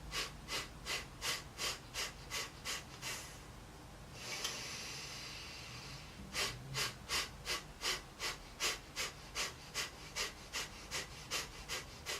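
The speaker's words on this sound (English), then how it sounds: "As you get more used to this method of breathing, you can also begin to pick the speed up, so you can do it a little bit faster." Quick, evenly paced belly-breathing exercise during a yoga arm-balance session: about a dozen sharp nasal exhales in steady rhythm, a pause with one longer breath, then another fast run of close, clear breaths without talking.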